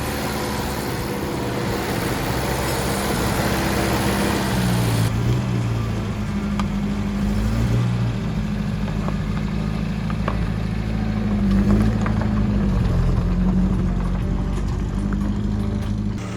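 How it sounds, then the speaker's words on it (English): A rebuilt Datsun 620 pickup truck engine runs steadily nearby, a low rumbling idle with slight rises and dips in pitch, continuous and fairly loud with no voices. "The engine sounded so much stronger than before."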